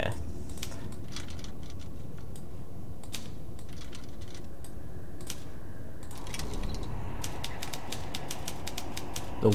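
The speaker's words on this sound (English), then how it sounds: "This typewriter is interesting, okay?" Mechanical typewriter keys clack in quick bursts of short taps inside the puzzle game The Room 2, with dense strokes near the end over a steady low ambient hum.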